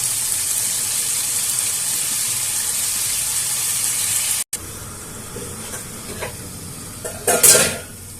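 Carrots and capsicum stirred into spiced frying oil for Indian-style veg pasta, a steady hiss and sizzle for several seconds, then quieter scraping and stirring with a brief louder clatter of the spoon near the end.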